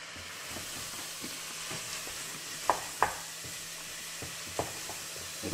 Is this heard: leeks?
yes